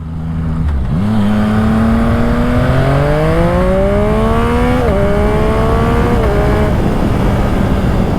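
Yamaha MT-09 SP motorcycle fitted with a Spark full exhaust system pulls away in first gear and accelerates hard, its loud engine note climbing steadily through the revs with brief dips at gear changes, close and continuous.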